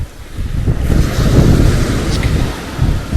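Sea waves wash at the very edge of the water on a UK beach with wet sand, while strong wind buffets the microphone in a loud, steady rumble.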